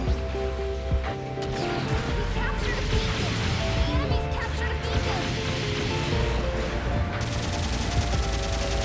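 Booming cannon blasts in the video game Gundam Battle Operation 2 roll over a dense game soundscape with surf-like rumble, steady and loud throughout.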